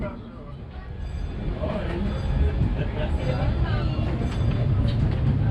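A Disneyland Railroad train at Disneyland slowing toward a halt, its steady rumble continuing under a crowd's chatter and a muffled announcement throughout.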